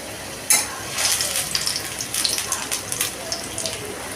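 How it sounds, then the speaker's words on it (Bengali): Raw papaya koftas deep-fry in oil, a bright crackling sizzle with scattered pops that rises after a sharp opening clatter and carries on steadily, with nobody speaking. "এরকমই লাল লাল করে একটু ভাজতে হবে"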